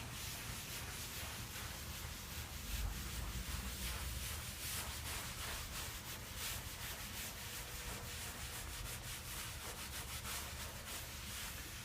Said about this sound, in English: Just gently wash the surface with the sponge.